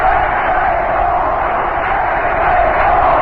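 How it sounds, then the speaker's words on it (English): Large baseball crowd at a National League playoff game between the Mets and Reds, roaring steadily and loudly in a dense, sustained wash of voices that could be a chant; no single call stands out. "the crowd is chanting, "Let's play ball.""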